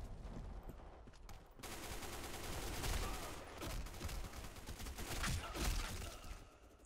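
Sustained gunfire in the Black Squad shooter on the Tallinn map in team deathmatch, dense rapid automatic bursts with scattered single shots, loud and continuous throughout with no talk.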